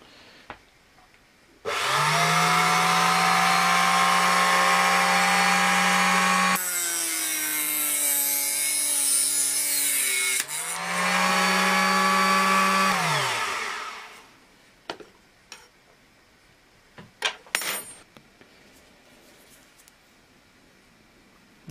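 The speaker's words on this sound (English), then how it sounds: "This is the Proxen cut-off saw, the small model that they make." A Proxxon KG50 small cut-off saw spins up and cuts through small screws for models, a loud sustained motor whine with a deeper grinding stretch mid-cut, winding down after about twelve seconds, followed by scattered clicks and handling knocks.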